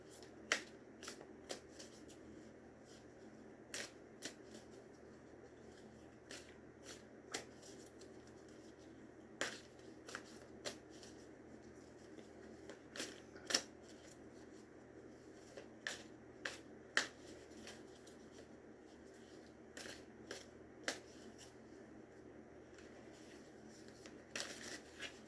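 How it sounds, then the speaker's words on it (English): Cat Tarot cards are shuffled softly and steadily by hand, with a quiet riffling rustle broken by frequent sharp little card snaps and clicks, close up in a quiet room. "So let's shuffle the cards."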